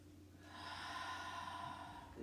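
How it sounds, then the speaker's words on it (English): A deep breath held during a yoga goddess pose, one long drawn airy exhale that swells and fades over about two seconds, close and quiet with no talking. "Final breath here."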